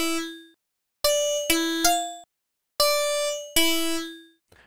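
Metallic bell-like FM synth tones made in FL Studio ring out one note at a time. Each strikes sharply and decays, in an irregular sequence of about six notes with short overlaps and no talk.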